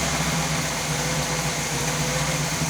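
Big block engine in a 1966 Chevy Biscayne idling at around 1,000 RPM, a steady, close, continuous low rumble with no pauses or talk.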